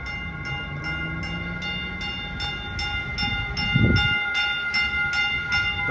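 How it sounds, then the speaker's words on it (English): A local Caltrain commuter train arrives at Redwood City Station with a steady electric whine and a regular rhythmic clacking over the rails, plus a brief low rumble midway, close and loud. "The local train 128 arriving at Redwood City Station."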